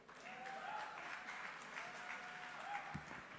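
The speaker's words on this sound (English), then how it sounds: "Can you give a round of applause to Titi?" A conference hall audience claps steadily in a dense, even wash of applause, with a faint voice underneath.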